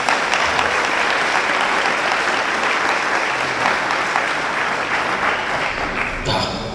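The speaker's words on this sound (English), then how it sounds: "Let's give them all a round of applause." An audience at the Challenging Mediocrity 2022 event bursts into sustained, loud applause, a thick wash of clapping that holds steady and starts to thin near the end.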